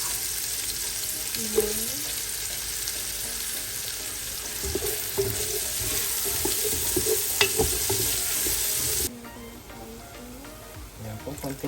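Garlic and onion sizzle steadily in hot oil for Filipino pancit, with the crackle dropping and stirring clatter audible as someone briefly speaks over the pan.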